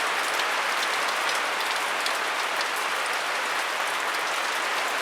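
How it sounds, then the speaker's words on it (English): Rain falls heavily and steadily outdoors, a dense, close, unbroken hiss of drops on surfaces with no voices over it. "the rain is slowing down."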